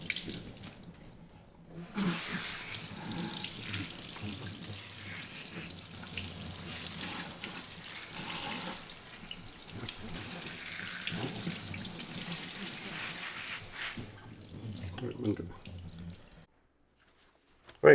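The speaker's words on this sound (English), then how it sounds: "wash it with cold water, not hot water." Cold tap water runs steadily over a brisket being rinsed in a sink for pastrami, a continuous close splashing stream that starts abruptly after a quiet moment and cuts off near the end.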